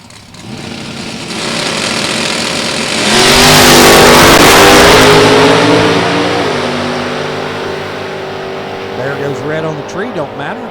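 Drag racing cars at a Beech Bend NHRA event, including an '85 Camaro and a Pontiac, rumble at idle and then launch with a loud, rising engine roar that peaks and fades, with an announcer talking over it.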